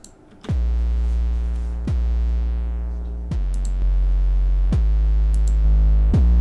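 Deep 808 bass notes hit five times at a steady pace, each a hard attack with a long booming tail that fills the low end, dry and unprocessed.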